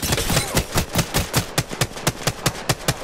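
Rapid bursts of automatic gunfire in a video game, roughly a dozen sharp shots in an uneven rhythm, loud and close, with no talk over them.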